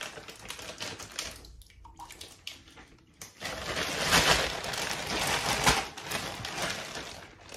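Close crinkling and rustling of a plastic bag being handled, irregular crackles that grow louder and busier in the second half.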